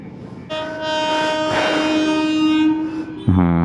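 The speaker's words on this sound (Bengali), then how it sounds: "এই যে ট্রেন যাচ্ছে।" Near a railway level crossing a passing train roars loudly and steadily, its horn sounding a long sustained tone through most of the pass, then a second, deeper horn blast at the end.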